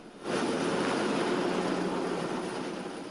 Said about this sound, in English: a helicopter carries heavy air conditioning equipment to the top of a building in downtown Dayton